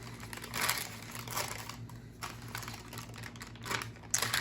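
Plastic liner being peeled and folded back from a block of soft, freshly made lard soap, giving faint crinkling and rustling in uneven bursts, close by and quiet, with no talking.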